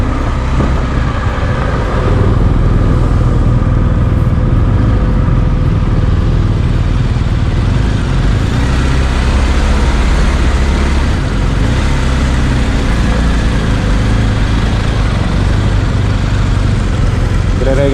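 An NK motorcycle converted into an adventure bike runs with a loud, steady engine drone, joined by road and traffic noise for the whole stretch.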